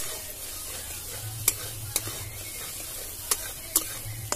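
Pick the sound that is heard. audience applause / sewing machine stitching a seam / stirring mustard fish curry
stirring mustard fish curry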